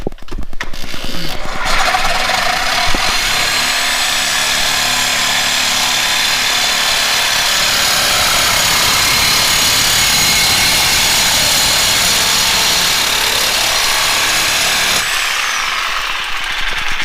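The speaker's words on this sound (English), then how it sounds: "got a Sawzall, and we're going to be cutting it" Sawzall reciprocating saw cutting through a Toyota Tacoma exhaust pipe clamped in a vise, giving a loud, sustained, buzzing rasp that runs steadily for about fifteen seconds before cutting off.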